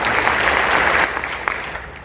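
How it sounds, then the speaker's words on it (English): An audience at a high school spring concert applauds a student jazz band honoree, a full, steady wash of clapping that thins slightly toward the end, with a few sharper individual claps. "Give him a round of applause."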